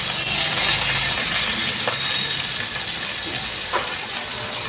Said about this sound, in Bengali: এবার উচ্ছেটা ভেজে নেব